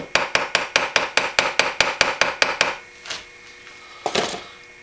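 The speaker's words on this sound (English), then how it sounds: "I just use the hammer and get a nice clean look" A rapid, even series of about fifteen sharp metallic hammer taps, close up, peening a pin on a straight razor, then a pause and a couple of softer knocks.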